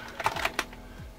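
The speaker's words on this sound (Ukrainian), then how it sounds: "Все печатаємо." Typing on an A4Tech Fstyler FG1010 wireless keyboard with soft keys: a short burst of several close, soft clicking keystrokes over quiet room tone.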